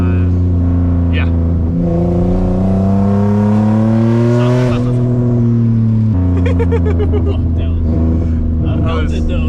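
Single turbo Nissan 350Z with a DE engine accelerating under boost, a loud, close engine note rising steadily in pitch through the gears with a brief shift dip, people talking over it from inside the car.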